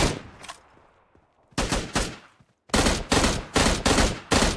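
Gunfire from an M16 rifle and a shotgun in the mobile battle-royale game PUBG Mobile: an early pair of shots, then loud separate bangs, then a rapid run of close, heavy shots with no talk.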